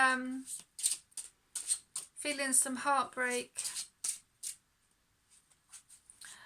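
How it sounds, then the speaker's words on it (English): Tarot cards being shuffled in quick riffling bursts, close and crisp, interleaved with someone talking. "No, I'm going to continue shuffling."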